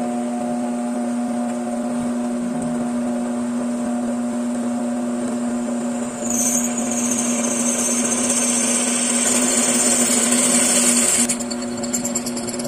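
A power drill bores into a broken connecting rod that has first been ground down, making a continuous loud motor whine that rises to a harsher, higher-pitched cutting tone midway and then eases off near the end.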